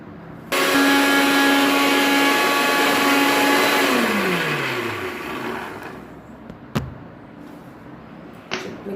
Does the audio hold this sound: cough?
no